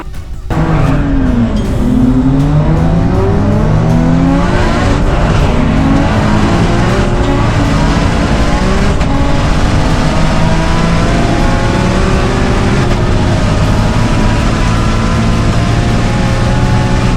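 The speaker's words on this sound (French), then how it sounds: "La M3 est encore partie très vite suivie de la Supra." A BMW M3 and a Toyota Supra race a half-mile strip, engines roaring loud and continuous as they accelerate through rising gear sweeps, with no pause across the run.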